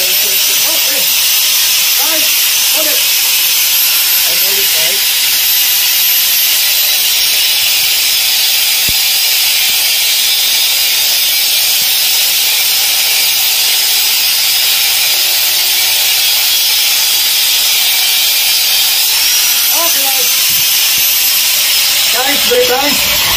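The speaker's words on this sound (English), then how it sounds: "Okay, guys, good. The grinder is working." A grinder runs steadily while a ship's combination pilot gangway ladder wire is replaced, giving a loud, continuous high hiss and whine that lasts the whole stretch, with faint voices beneath it.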